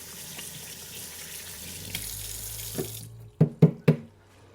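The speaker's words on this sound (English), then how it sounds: "Now let me wash my hands again real quick." Tap water runs into a sink during handwashing, a steady broadband rush for about three seconds that cuts off, followed by three quick splashing or dripping knocks near the end.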